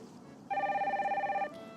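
A telephone in the Nancy Drew video game rings once with a steady, warbling electronic tone lasting about a second over faint background ambience.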